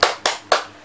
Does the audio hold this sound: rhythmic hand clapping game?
yes